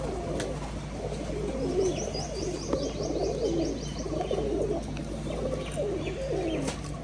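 Rajshahi color-matched pigeons at a pigeon farm coo in repeated soft, rolling calls, several birds overlapping at close range against a steady low background hum, with a few brief chirps.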